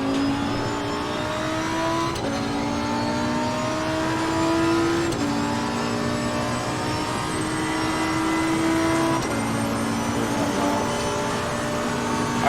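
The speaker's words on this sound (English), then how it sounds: "Engine, okay, too loud." Race car engine in the Assetto Corsa Competizione racing game, loud and continuous, with the pitch climbing through each gear and dropping sharply at every upshift, repeating several times with no talk.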